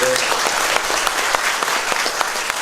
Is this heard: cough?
no